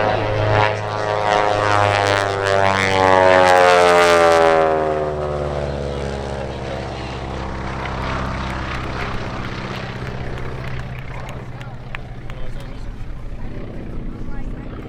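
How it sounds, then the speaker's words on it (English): A Beech 18 propeller airplane roars loudly overhead at an airshow, its engine pitch sweeping down as it passes, then fades to a steady drone in the distance. "Now as we watch up here, Matt's bringing that airplane around."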